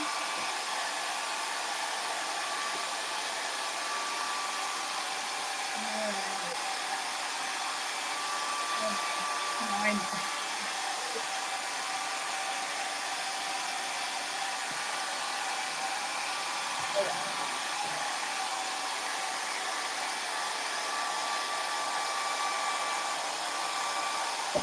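A hair dryer blows steadily and loudly for the whole stretch, a constant broadband whoosh with faint voices and small handling bumps beneath it.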